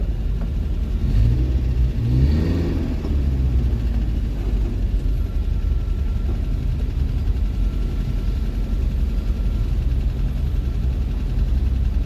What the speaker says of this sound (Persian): ببین چه ترافیکی شده